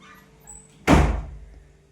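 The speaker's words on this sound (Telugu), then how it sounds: "ఇంకా డోర్ అయితే వేసేస్తాను," A single solid door thud lands sharply partway through, then decays quickly into a quiet room.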